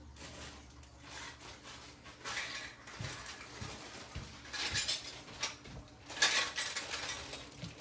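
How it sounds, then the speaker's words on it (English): Metal lids are set and twisted onto glass jars of rendered grocery-store beef lard, giving a string of scattered clinks, taps and scrapes that grow louder toward the end, with no talk. "I'm just gonna put the lids on and I'll set it by the stove"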